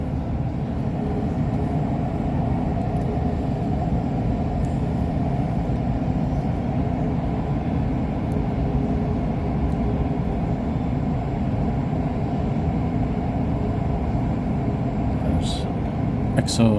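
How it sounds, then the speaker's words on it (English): A steady low rumble of an approaching REM light metro train near Île des Sœurs, Montreal, rolls on continuously, close and even, with a person talking over it. "There's the other REM train coming now."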